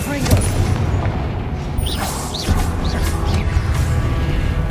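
Confringo explosive curse cast in a Harry Potter video game: a loud booming blast near the start, then rumbling crash and mechanical debris with whooshing swirls over a heavy low roar.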